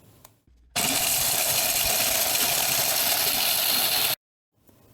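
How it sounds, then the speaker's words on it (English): A food processor with a metal chopping blade whirs loudly for about three seconds as it chops dried liver, a steady high-pitched grinding drone that starts and stops abruptly. "Once it's dry, place it in a food processor with a metal chopping blade."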